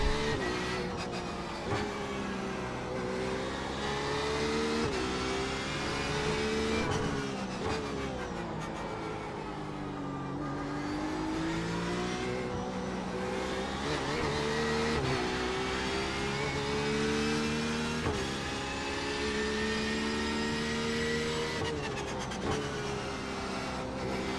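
A Porsche 911 RSR GTE race car screams around the Nürburgring in iRacing, its engine revving up and down through the gears in rising and falling sweeps, loud and continuous.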